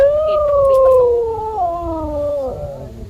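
One long mournful howl from a dog, loud and close, sliding slowly downward and wavering for about three seconds at a mountain viewpoint campsite, with no talk over it.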